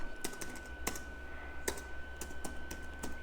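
Fingers type on a computer keyboard, quiet irregular key clicks in short bursts over a faint steady hum, with no talk.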